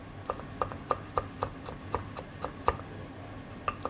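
A knife coarsely minces dried prawns on a board in a quick series of about a dozen crisp, evenly spaced chopping taps, close and fairly quiet, with a short pause before a final strike.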